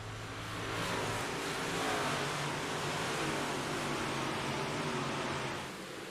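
Race cars on a rough track, including the number 77 and number 2 cars, a broad roaring wash of engines swelling and holding from a distance, then fading slightly.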